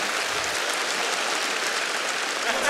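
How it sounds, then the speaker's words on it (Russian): A studio audience at a Liga Smekha comedy show breaks into dense, loud applause for Olya. The clapping is steady and continuous throughout, with no voices over it. "Оля, тебе отдельные аплодисменты."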